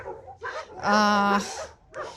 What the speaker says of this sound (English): I'm sure you can hear all the dogs in the background